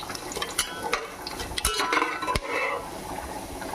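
Whole biryani spices (cinnamon, cloves, cardamom, mace, marathi moggu, cumin) frying lightly in a pan for Hyderabadi bagara rice, with soft sizzling under scattered metallic clinks and scrapes of a utensil against the pan.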